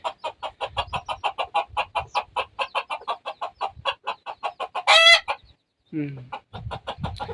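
A hen clucks in a steady, rapid series of short clucks, close by, with a brief louder squawk partway through and a few low thumps.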